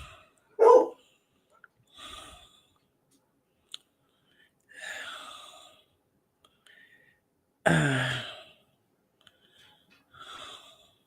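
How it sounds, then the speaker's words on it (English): A dog gives scattered barks and wheezy yelps with long pauses between them, nearby in an otherwise quiet room. "No barking."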